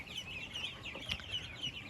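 Six-day-old laying ducklings keep up a steady chorus of thin, high peeps, faint and continuous, with no voices over them.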